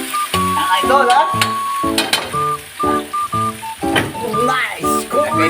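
Tomatoes dropped into a hot pan crackle and sizzle close by, with spoon scrapes and stirring clatter breaking through in short bursts while someone talks casually over the cooking.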